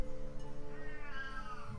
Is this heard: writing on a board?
no